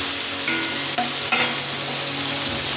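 Tomato paste and spices fry in a pan with a constant sizzle, while a utensil stirs and scrapes a few times, giving brief clinks over the steady hiss.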